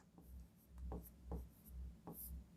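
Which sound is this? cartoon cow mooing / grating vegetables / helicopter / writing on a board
writing on a board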